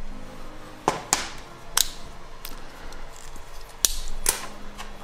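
The small battery door of a GoPro Hero 6 camera being opened by hand, a few sharp plastic clicks and snaps spread over several seconds with quiet handling noise between them.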